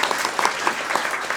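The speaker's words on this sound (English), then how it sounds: "a big round of applause for Michael and Will," A theatre audience applauds in a steady round of clapping, dense and sustained for the whole moment, with many hands blending into a continuous wash of claps.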